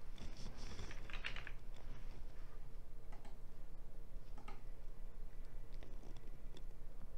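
Typing on a computer keyboard in a law library catalog search, a quiet run of quick, light key clicks in an irregular rhythm, close and alone.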